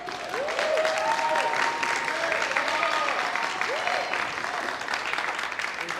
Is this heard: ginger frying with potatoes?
no